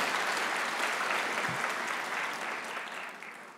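Graduation ceremony audience clapping for a medical lab assistant cohort, a steady dense wash of applause from a large crowd that holds loud throughout and fades slightly near the end.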